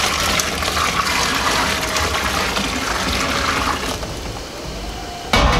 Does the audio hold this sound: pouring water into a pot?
yes